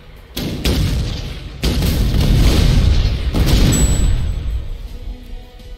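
Shots explode in the artillery game Shellshock Live, three heavy booming blasts in a row, each a loud low thud that rolls on and overlaps the next, with a brief high tone near the end.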